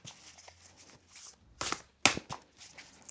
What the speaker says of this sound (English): So let's start by shuffling.